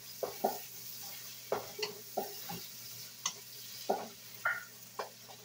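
Tomatoes cooking in a pan, a faint steady sizzle under intermittent sharp scrapes and taps of a whisk or utensil stirring, close and moderately quiet.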